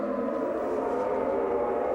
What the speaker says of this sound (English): we do have a missile siren going off